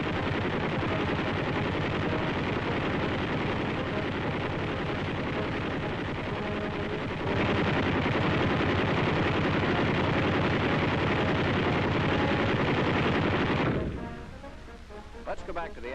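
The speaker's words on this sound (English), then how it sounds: "Those 4 heavy-barrel 50s carry a lot of death for a baby this size." Quad heavy-barrel .50 caliber anti-aircraft machine guns on a World War II self-propelled mount fire in a loud, continuous roaring burst for about fourteen seconds, then stop abruptly, leaving a faint background.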